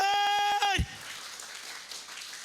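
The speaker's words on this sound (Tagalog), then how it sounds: "Isang palakpak para sa Diyos." Church congregation applauding for God, a burst of clapping that rises as a held musical tone cuts off and then carries on steadily, fairly close, for a couple of seconds.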